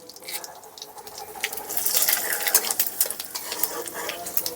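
Dry chillies, bay leaf and cumin temper in hot oil as they are stirred, a close crackling sizzle with scraping utensil strokes that grows busier midway.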